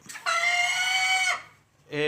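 Golden Misri hens on a poultry farm, one giving a long, loud drawn-out crowing call followed by a shorter call, close by with quiet gaps between.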